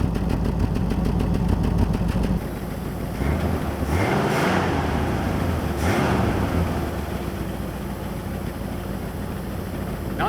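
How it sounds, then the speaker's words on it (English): Ford Mustang Cobra engine idling after sitting abandoned for 27 years, a steady close rumbling idle with a couple of slight swells in the middle. "Idle must sound a lot better."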